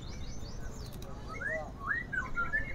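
Bright melodic song of a magpie robin with rising and falling whistled phrases, sung over a low background murmur of voices and room noise.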